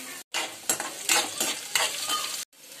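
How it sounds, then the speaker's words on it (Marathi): Chopped onion and a green chili stirred in hot oil in a pan, sizzling in close bursts with brief scraping stirs and short pauses. "कांदा, एक हिरवी मिरची टाकली"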